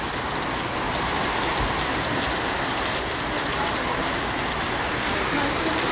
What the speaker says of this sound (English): it's raining like pouring piss out of a boot